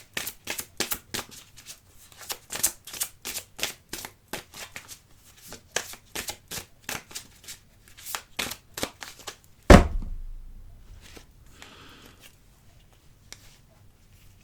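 A tarot card deck is shuffled and cut by hand, a long run of crisp, rhythmic riffling snaps, then a single louder slap as the cards come together, followed by soft rustling. There is no speech.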